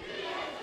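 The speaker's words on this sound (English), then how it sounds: "Crowd here in Kitchener willing Grewal on" Boxing crowd at a fight night in Kitchener roaring steadily in support of a fighter, a dense, sustained wall of shouting voices throughout the short moment.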